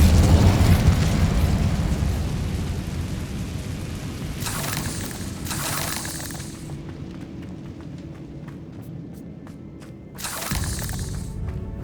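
A fiery spell blast from Incendio in Hogwarts Legacy opens with a loud, low rumbling burst. It fades slowly, with a few sharp crackling flares breaking in midway and near the end.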